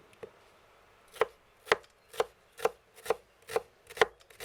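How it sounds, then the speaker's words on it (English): Onions and fresh herbs minced with a knife on a board, a run of about eight sharp, evenly spaced chops, close and clear with no talk. "Meanwhile, we mince the onions and fresh herbs."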